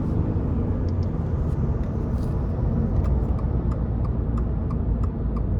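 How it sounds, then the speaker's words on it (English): A 2024 Subaru Impreza RS hatchback engine pulls steadily under acceleration in S mode, a continuous loud low rumble with faint ticking over it, heard from inside the cabin with no talk. "go into the S there and just kind of give it a little more pep"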